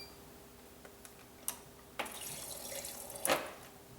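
A refrigerator door dispenser pours water into a cup, a faint thin trickle after a few soft clicks and taps, quiet and close with no talk.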